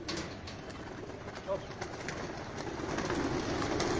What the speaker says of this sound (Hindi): ये कबूतर चल रहे हैं